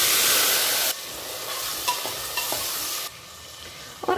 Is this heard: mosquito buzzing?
no